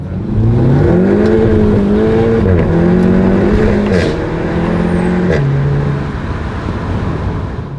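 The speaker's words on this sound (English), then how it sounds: "The first gear, put your foot down, what happens?" A Cupra with a custom DSG gearbox tune accelerates hard in first gear, its engine roaring loud and close as revs climb steadily, dip briefly and climb again without an upshift.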